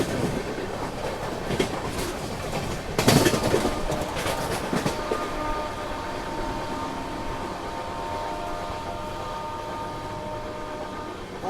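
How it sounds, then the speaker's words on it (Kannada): Tamil Nadu Superfast Express from Chennai Central to New Delhi overtaking at a station. It is heard from aboard an AC train during the monsoon: loud rushing clatter and wheel rattle with sharp bursts early on, then a steady rolling hum. "Overtaking Tamil Nadu super fast. MGR Chennai ಸೆಂಟ್ರಲಿಂದ new ಡೆಲ್ಲಿಗೆ ಹೋಗುವಂಥದ್ದು."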